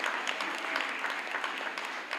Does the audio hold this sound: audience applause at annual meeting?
yes